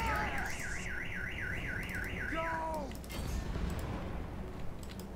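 Alarm in Total War: Warhammer during an underground battle at Karak Norn: a fast warbling siren cycles loudly, then cuts off, leaving rumbling battle noise with faint voices.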